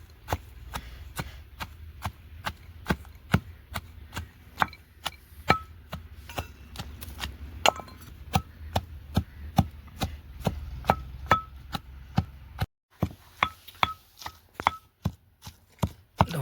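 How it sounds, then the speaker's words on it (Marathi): Black masala paste for desi kala chicken is ground by hand, with about thirty sharp, evenly spaced strikes in a steady beat that break off briefly near the end before resuming. "आपण त्याला वाटून घेऊया मित्रांनो"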